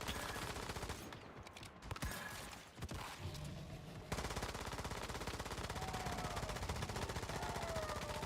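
Rapid gunfire in the Once Human video game, with shotgun blasts mixed into a dense, continuous barrage that thins briefly around the middle before resuming hard and sustained to the end.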